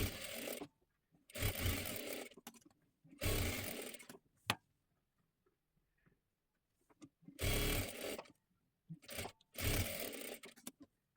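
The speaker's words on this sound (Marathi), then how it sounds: "डबल शिलाई देऊन घ्यायची आहे." A sewing machine double-stitching the side seams of a katori blouse, running in five or six short loud bursts separated by silent pauses, close up and with no talk.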